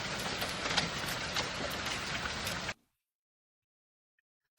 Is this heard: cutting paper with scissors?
no